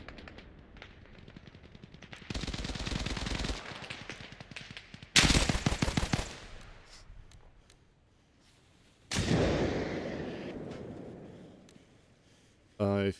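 Automatic gunfire in a 12-versus-12 ranked video game match on the map Zarichne, heard as two sharp, loud bursts of rapid shots a few seconds apart, then a broader blast-like rush and a short final burst, with voices talking.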